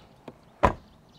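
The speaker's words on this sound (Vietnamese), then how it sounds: "Cái âm thanh nó nghe chắc hơn rất là nhiều và cái cánh cửa của nó đóng" A Volvo XC60 R-Design car door swings shut with one solid, nearby thud, after a softer click a moment before, and then quiet.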